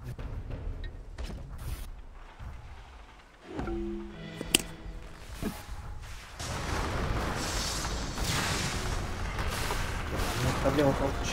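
Cannon fire in a video game: a few heavy booms and mechanical clanks over a rumbling battle background, with voices talking over the noise.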